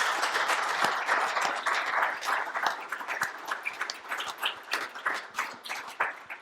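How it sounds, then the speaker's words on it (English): Applause from a live audience for a panel at an automotive industry event, loud and dense at first, then thinning into scattered, separate claps toward the end. "Very good round of applause."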